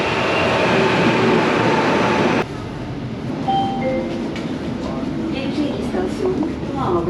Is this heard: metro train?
yes